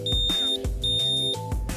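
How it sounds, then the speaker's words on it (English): Two long, loud, high-pitched electronic beeps in a row from a Manta5 XE1 hydrofoil bike battery powering on, each lasting about half a second, over a steady low hum. "turn the battery on by pressing the button and wait to hear a loud beeping sound"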